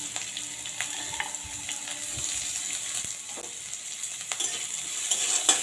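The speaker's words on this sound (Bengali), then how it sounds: "পেঁয়াজটাকে যতক্ষণ না একটু কালার আসছে ততক্ষণ আমি ভেজে নেব।" Chopped onions fry in oil over whole garam masala and cumin tempering, giving a quiet, steady sizzle with scattered crackles and faint stirring clinks, no talk.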